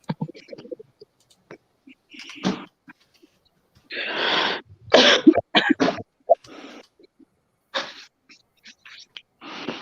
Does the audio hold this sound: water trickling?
no